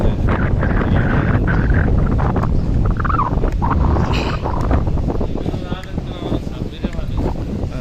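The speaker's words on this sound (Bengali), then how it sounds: "রোদ অনেক বাতাস অনেক" Strong wind buffeting a microphone outdoors at a river launch terminal, a loud, constant rumbling roar lasting the whole stretch, with faint voices mixed into the blustery noise.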